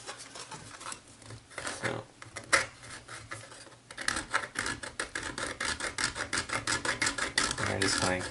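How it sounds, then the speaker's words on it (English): A small file rasps against plastic edges of GameBoy Zero build parts, the scraping growing into quick, regular strokes in the second half, close and fairly quiet. "take that little cool file that I was talking about and we can start really kind of trimming these up"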